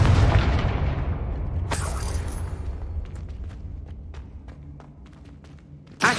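A Confringo spell explosion in Hogwarts Legacy erupts as a loud, close boom at the start and rumbles away over several seconds, followed by scattered sharp crackles and a final pop.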